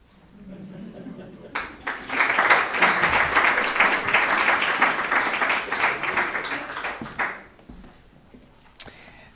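A French-speaking audience gives warm applause after a literary reading. Clapping starts abruptly, swells into a sustained round for several seconds, then tapers off into near silence.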